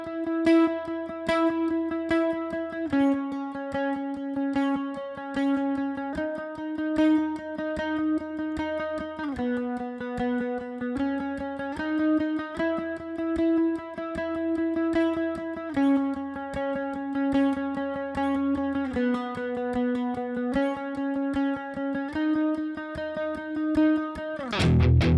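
Distorted electric guitar playing an intro, sustained power chords shifting between a few pitches with steady picking, moderately loud and alone.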